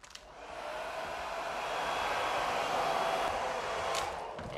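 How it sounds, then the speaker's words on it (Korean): Hair dryer in a pension room on an island switched on, blowing with a steady broadband whoosh, fairly close and alone, with faint clicks at start and end. "드라이기 한번 켜볼게요."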